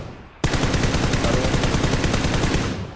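Sustained rapid automatic gunfire erupts suddenly in a PlayStation 4 shooter game, a loud, dense, rattling burst that continues steadily with no talk over it.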